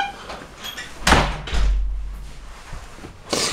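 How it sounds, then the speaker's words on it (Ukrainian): A door being shut on a winter day, a close, loud thud followed by a low rumble as it settles, with a fainter knock a couple of seconds later. "от закриваю двері"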